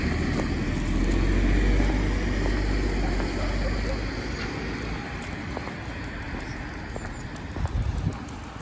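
A car travels along a dry road on a cold day, giving a steady, close rumble of engine and tyre noise that eases slightly over time.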